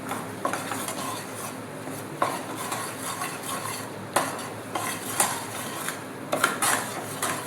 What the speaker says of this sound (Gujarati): હવે એની અંદર જે લોટ છે એ નાખી અને બરાબર શેકી લેવાનો છે